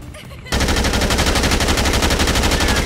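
Automatic gunfire from Dead Rising 2 breaks out after a brief quiet moment, then keeps up a loud, rapid, steady machine-gun rattle to the end.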